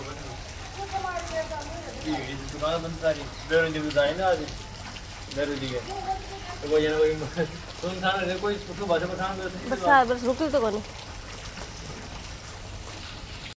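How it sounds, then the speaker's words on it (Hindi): Steady rain falls through a wet monsoon evening, a soft continuous patter underneath a voice talking throughout at close range. "कल रात से बारिश स्टार्ट है, पूरी रात हो गई पूरा दिन हो गया"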